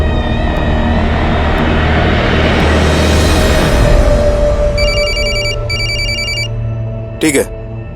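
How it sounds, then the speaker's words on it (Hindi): A telephone rings with bursts of electronic trilling partway through, heard over loud continuous background rumble and talking, followed by a brief sharp clatter. "सर, चेतन का फोन था, उसका पता चल गया है।"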